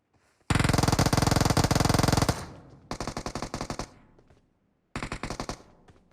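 Loud bursts of rapid automatic gunfire in PUBG Mobile: one long sustained burst, then two shorter bursts after brief pauses, close and with no talk over them.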